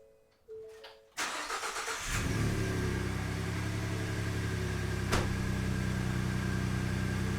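A Ford F150 truck with the 3.5 EcoBoost engine cranks briefly, catches and settles into a steady, close idle that runs without a break. No one speaks.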